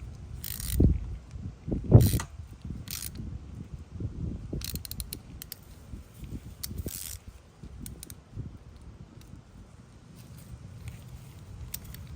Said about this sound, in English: Let's put our ratchet on and see what happens with this huge pin